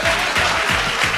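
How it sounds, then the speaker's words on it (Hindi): Loud, dense applause from a mushaira audience for the poet Jahaz Deobandi, a steady wash of many hands clapping at close range with no voices over it. "जोरदार तालियां एक बार जहाज देवबंदी साहब के लिए।"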